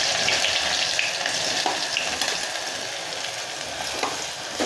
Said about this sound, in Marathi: हा कांदा आपण मस्त तेलामध्ये पूर्ण परतून घेणार आहोत।